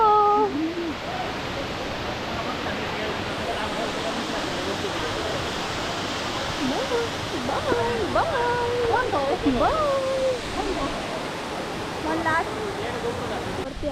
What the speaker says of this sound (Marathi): ही आहे वरची साईड जिथून इथून पाणी खाली जातं